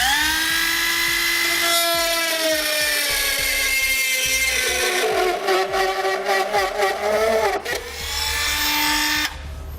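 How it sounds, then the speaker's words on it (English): A high-pitched rotary tool whines and shifts pitch as it cuts along the edges of the plastic bumper fascia of a 2010 BMW X3, loud and close, bogging down into rougher grinding partway through before spinning freely again. "I'm going to use a rotary tool. I'm just going to make those cuts right along the edges."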